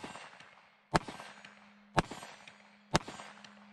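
Three sharp, loud double-action shots from a Taurus 605 .357 Magnum snub-nose revolver with a 2-inch barrel ring out about a second apart outdoors, each a close crack followed by a short echo.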